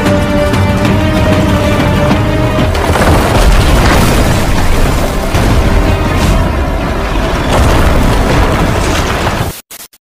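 Tank cannon fire and explosions in a war film roar loudly and continuously, heavy booms and rumbling blasts layered one over another at close range before cutting off abruptly near the end.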